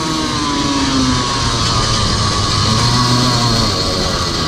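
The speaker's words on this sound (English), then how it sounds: "it bounces off the rev limiter quite a bit because the gears are shorter with the 2-stroke." A two-stroke CR125 dirt bike engine howls loud and continuous at high revs while riding, with its pitch wavering and hovering near the rev limiter under wind noise.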